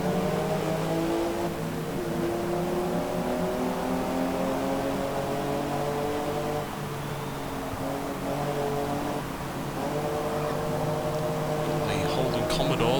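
A Mercedes 190E race car's engine drones steadily in Forza Motorsport, holding a loud, sustained tone with slight pitch shifts as it runs alongside other cars.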